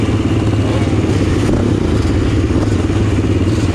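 Honda XR600R dirt bike setting off in second gear on a slippery track, its loud single-cylinder engine chugging steadily and close throughout with some rattle, no voices over it.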